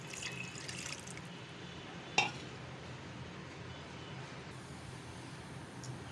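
Water poured into a pot of soaked rice for beef yakhni pulao, a steady faint trickling wash with one brief clink partway through, no talking.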